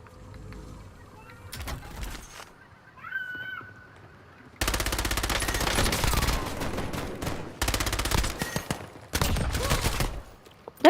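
An automated turret fires in the video game Call of Duty Warzone: a few faint early shots, then long, loud, dense bursts of rapid fire broken by short gaps, dominating the second half.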